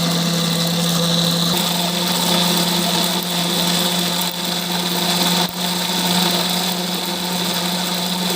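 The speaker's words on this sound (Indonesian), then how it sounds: "setelah selesai aku blender bumbu-bumbu sambal gorengnya tadi" An electric blender grinds sambal goreng spice paste at close range, a loud steady motor whir with a constant hum that runs the whole time without a break and no voices.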